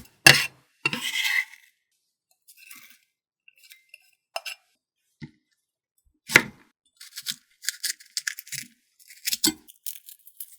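A knife finely chops green onion on a cutting board in sparse, crisp taps and short scraping bursts, close and clean against near silence.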